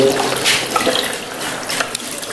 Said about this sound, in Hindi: और उसके बाद ये बाईं साइड पर हम पानी डालते हैं।